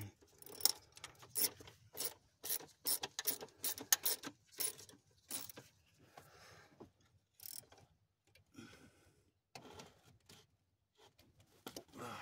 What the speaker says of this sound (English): over torquing these bolts, because they just basically run down and stop